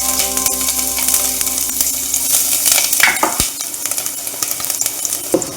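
Oil crackles in a hot pan with a busy, close sizzle, mixed with metallic scraping and clinking of a utensil against the pan. A few sharp knocks come through, and there is no talking.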